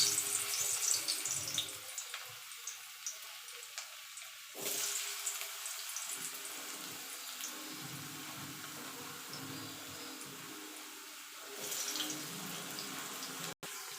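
Potatoes fry in hot oil for a vegetarian potato and pointed gourd dish. A soft, steady hiss and sizzle swells louder at moments and fades back, with no talking.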